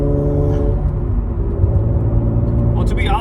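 An Acura TL engine fitted with a lightweight crank pulley runs loud and close, a steady low droning hum with a slight rise in pitch toward the end.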